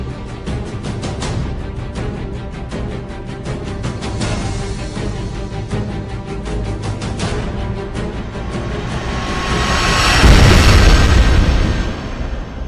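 A Type II supernova explosion sound effect: a deep rumbling boom swells from a crackling, rushing texture, growing louder into a big roaring blast before fading.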